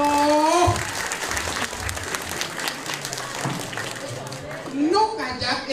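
An audience claps at a classical Balinese Arja performance in a temple. The scattered clapping sits under sung or drawn-out vocal lines at the start and end.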